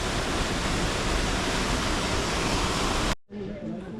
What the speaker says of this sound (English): here we are at one of the waterfalls here in the reserve, having a nice look at the water